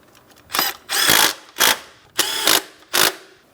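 Ratchet snugging two 10mm mounting nuts onto the ignition coil of a 2008-2016 Chrysler Town & Country 3.8L V6, five close, brisk bursts of clicking separated by short pauses.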